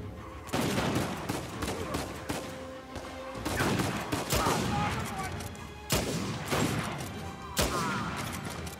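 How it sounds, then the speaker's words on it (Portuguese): Rapid gunfire bursts from the video game Uncharted 4, with repeated sharp shots and fusillades in quick succession at a steady loud level, with game effects filling the background. "Parece que deu certo esse meu tiro na tua cara"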